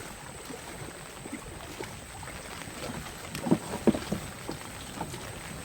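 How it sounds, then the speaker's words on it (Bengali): Rain and gusting wind on a river during net fishing, a soft steady wash of broadband noise with wind buffeting and a few knocks from the boat, quiet and continuous. "দ্বিতীয় জাল তুলতে এসে যেমন বৃষ্টি তেমন হাওয়া"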